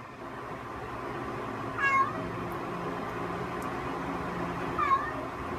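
A cat lets out two short meows a few seconds apart, faint and somewhat distant over a steady low background hum, with no talking.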